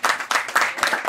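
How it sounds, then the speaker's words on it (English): A crowd claps in brief bursts of rhythmic applause at an 80th birthday celebration for twin sisters, moderately close and clear. "a round of applause is also necessary with this celebration"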